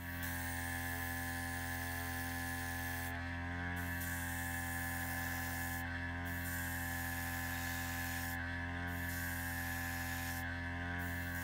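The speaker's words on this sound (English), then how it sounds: "I'm just gonna spray a little bit of that on the chin" Pure Pumpkin paint is sprayed onto the chin of a homemade lipless crankbait fishing lure, a steady close hiss over a constant mechanical motor hum, with a few brief breaks in the spray.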